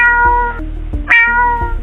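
A domestic cat meows three times in close succession, loud and near, each call a clear drawn-out tonal cry with short pauses between, and no talking over it.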